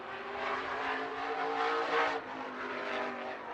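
Race car lapping Slinger Super Speedway, a short-track oval in Slinger, Wisconsin, heard as a loud continuous engine roar that swells briefly and then eases, with no voices.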